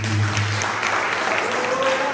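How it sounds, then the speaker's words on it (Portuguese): A church congregation at an Assembly of God anniversary service claps together in a loud, dense burst of applause, with voices mixed in under the clapping throughout. "Só quem está preparado para subir, aplauda o nome de Jesus"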